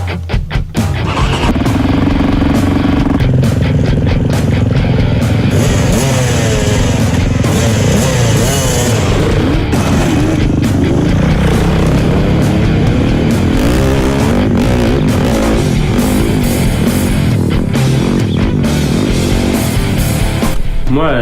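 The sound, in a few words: 450 SMR four-stroke motorcycle engine revving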